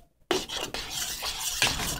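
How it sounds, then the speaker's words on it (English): A spoon scrapes and churns through thick polenta in a pot, steady wet stirring strokes close up with faint clinks against the metal. "Stir constantly or else the bottom will burn."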